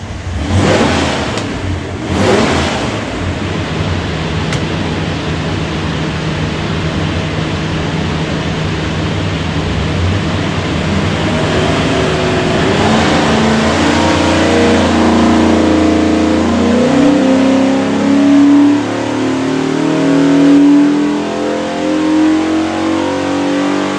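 A 347 Ford stroker V8 built as a drop-in engine for a 1969 Mustang revs on a dyno, a loud, close roar climbing steadily in pitch as it pulls through a full run, with no talking.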